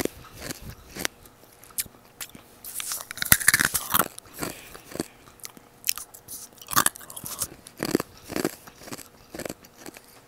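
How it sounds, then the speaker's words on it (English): Crunchy food bitten and chewed close to the microphone for ASMR, giving irregular crisp crunches and crackles, a few louder bites and quieter chewing in between, with no talking. "I don't want to keep you guys here all day just listening to my crunches."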